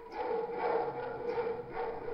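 A hunter's pack of four hounds gives a few drawn-out, yelping barks and whines, fairly close and loud, with no voices over them.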